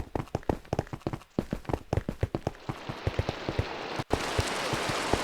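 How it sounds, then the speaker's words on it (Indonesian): Rain falling in the Minecraft video game, a steady hiss that builds and fills the scene behind a run of quick, evenly spaced footstep-like thumps. "Tiba-tiba hujan loh."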